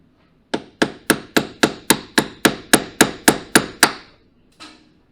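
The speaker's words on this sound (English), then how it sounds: "Let's chisel the next one" A chisel is hammered against a skid plate fastener on a Can-Am Maverick with twelve sharp, evenly spaced metallic strikes in quick rhythm, then a single lighter tap after a pause, close and loud with no talk.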